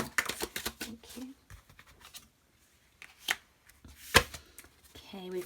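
Tarot cards being shuffled by hand in a quiet room, a quick run of crisp riffling and slapping card sounds, then scattered single snaps, with a voice speaking over the start and the end.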